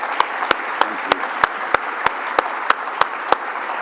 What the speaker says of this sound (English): Please give a round of applause to the three people who've had a big impact.